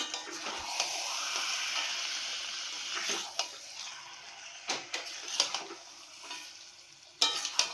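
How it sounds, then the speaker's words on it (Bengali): Chicken pieces sizzle in a spiced masala while being stirred, a continuous frying hiss broken by several scraping spoon strokes and clinks against the pan. "এবারে মশলাতে মাংসটা দিয়ে ভালো করে মিশিয়ে নিতে হবে, মানে কষিয়ে নিতে হবে।"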